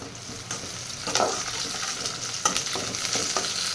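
Curry leaves sizzle steadily in hot oil in a pan, with a few sharper crackles and stirring scrapes, close and moderately loud, no voices.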